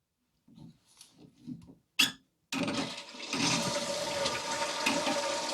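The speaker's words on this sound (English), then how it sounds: "Let's turn on the water." A newly installed handheld bidet sprayer is heard after a few soft handling knocks and a sharp click, when water suddenly rushes through it in a loud, steady, close gush that keeps going to the end.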